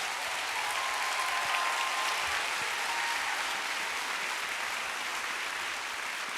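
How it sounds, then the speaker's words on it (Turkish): Studio audience applauding as two presenters walk on stage for a televised anniversary broadcast of an environmental foundation, steady continuous clapping throughout with a faint voice briefly audible beneath. "Alkışlarınızla Sedef Avcı ve Kıvanç Kasabalı geliyor."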